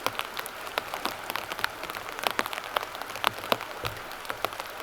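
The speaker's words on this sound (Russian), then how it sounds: "Начался дождь." Rain falling in wild taiga beside a small river, a steady patter with scattered sharper drops tapping close by, no voices.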